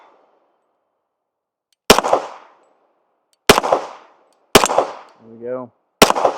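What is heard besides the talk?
Kimber Rampart pistol gunshots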